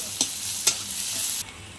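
Crushed onion and garlic hitting hot oil in a heated wok, a bright close sizzle with two sharp stirring clicks, cut off abruptly near the end; no talking.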